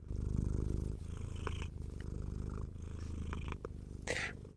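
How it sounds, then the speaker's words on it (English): A cat purrs close up in rough rhythmic bursts, low and rumbling, with a few small clicks and a brief rustle near the end. "You can hear the purring."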